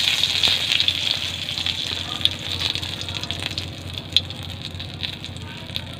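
Three or four bay leaves frying in hot oil in a home kitchen, a steady close hiss and sizzle with small crackling pops, while someone speaks over it.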